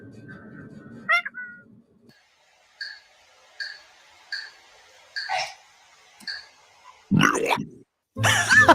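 A cat meows again and again in a steady series of short, fairly near calls at regular intervals, followed by louder bursts of noise at the end.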